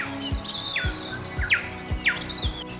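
Wild birds in the Southern Alps of New Zealand give repeated clear chirps and descending whistled calls, about one every half second, close and distinct over a faint steady background of wind and water.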